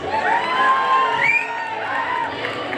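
A graduation day audience at an engineering college in Bangalore cheers, whoops and shouts in a loud, sustained roar that fills the whole stretch, with shrill individual yells rising above the crowd.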